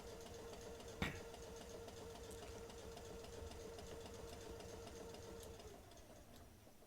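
Class 455 electric train motor from Train Simulator Classic, on the Sutton and Mole Valley lines at about 20 mph, a steady low mechanical drone with a brief sharp click near the start, running continuously and fading slightly at the end.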